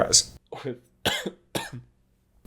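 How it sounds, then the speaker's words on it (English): A person coughs several times in quick succession, close and loud, each cough a short rough burst with brief pauses between. "Sorry for the cough."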